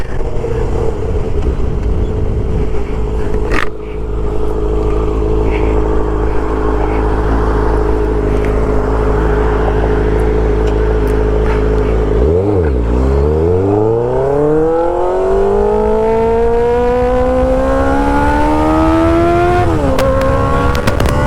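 A motorcycle on a street holds a steady loud drone, then drops and climbs through rising gear-by-gear acceleration, its pitch sweeping upward close to the mic.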